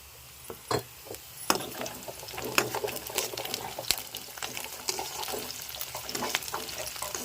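Mustard seeds, cumin, curry leaves, green chillies and onions sizzling in oil on a stove, a busy crackling hiss with sharp pops and spatters scattered throughout, close by, with clinks of a utensil near the start.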